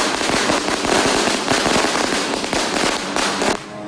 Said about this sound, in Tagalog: umaatikabong paputok